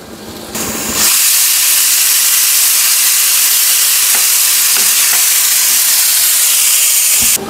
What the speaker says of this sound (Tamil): அதுக்கப்புறம் வந்து வெங்காயம் இதெல்லாம் போட்டு தாளிப்பு போட்டுட்ருக்குறேன்